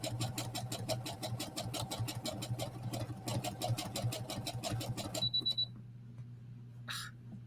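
A home sewing machine stitches a jacket in a rapid, steady whirring chatter for about five seconds, then stops abruptly as the bobbin thread runs out, followed by a brief faint beep and near silence.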